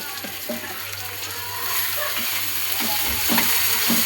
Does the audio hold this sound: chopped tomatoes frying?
yes